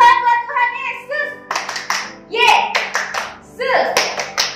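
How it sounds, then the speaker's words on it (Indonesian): Children's voices sing over rhythmic hand clapping from a church congregation at a Sunday service, claps mixed with close, lively vocals throughout. "Tepuk tangan buat Tuhan Yesus."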